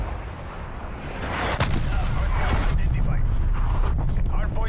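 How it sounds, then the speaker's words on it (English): An artillery strike in a PS4 shooter sounds as heavy rumbling booms and blasts layered over constant low battle noise, loud and close, with crackling debris and game voices mixed in. "Artillery inbound."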